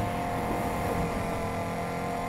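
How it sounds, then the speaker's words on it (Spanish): Car engines roaring in the racing game Need for Speed Heat, with turbo blow-off valves and nitro boosts, a steady loud broadband rush with no talking. "escucho ahí las válvulas de descarga y los malditos nitros ahí"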